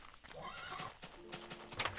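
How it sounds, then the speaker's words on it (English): A horse in Minecraft whinnies over clip-clopping hooves, several short neighs rising and falling across two seconds, fairly close and clear with no talking. "Nope, still didn't get the correct horse."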